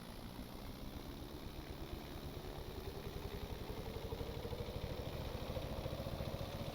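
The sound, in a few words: Antonov An-2 engine spooling up with brakes on, Stormworks video game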